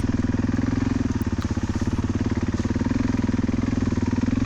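A Husqvarna dirt bike idles steadily during a break in a muddy backwoods cross-country race, its low, even engine putter loud and close throughout, without speech.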